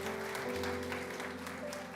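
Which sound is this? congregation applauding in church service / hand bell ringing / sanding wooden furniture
congregation applauding in church service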